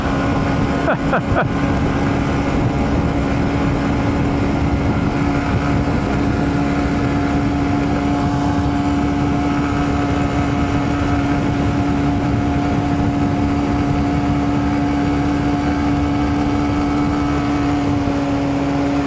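Honda CB125F motorcycle cruising at speed tucked in another vehicle's draft, a steady droning engine hum mixed with rushing wind, continuous and close, with a few brief clicks near the start.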